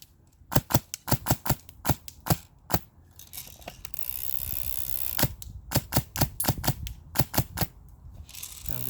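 Krytac LMG Fusion airsoft gun with a Gen3 V2 engine firing semi-automatic shots outdoors, a rapid run of sharp, loud single cracks with brief pauses, then a hissing stretch before more closely spaced shots.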